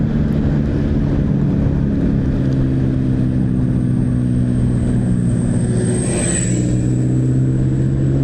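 A vehicle fitted with a racing exhaust drones along a coastal highway in eastern Sumatra, a loud, steady engine roar throughout with a brief rising swell near the end, no talk.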